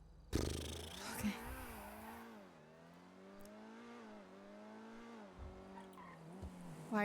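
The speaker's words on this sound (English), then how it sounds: "Why does this car just keep driving past me?" A car in GTA V on the NoPixel roleplay server passes by, its engine tone rising and falling and its tires squealing briefly near the start, fairly quiet and heard on its own.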